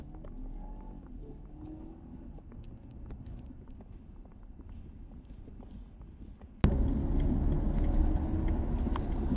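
A Stage 1 flash-tuned BMW B48 engine car driving, a steady low engine rumble that jumps suddenly louder partway through and holds as the car pulls harder.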